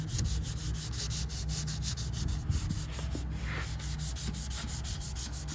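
Sandpaper rubs across guide-coated bodywork on a Camaro build in fast, rhythmic back-and-forth strokes, a close, steady scratching repeated many times without pause.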